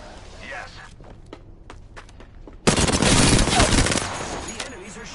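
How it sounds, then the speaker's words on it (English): Enemies firing at the player in a video game, a few sparse single shots first, then a loud dense burst of rapid automatic fire lasting over a second before it tapers off. "The enemies are shooting at me."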